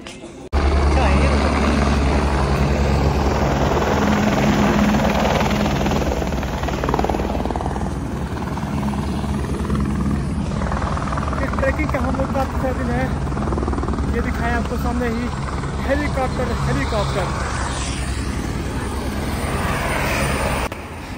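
Helicopter flying near the Kedarnath helipad in the Himalayas during the 2024 Kedarnath Yatra, a loud steady rotor and engine drone filling the whole clip, with people talking over it.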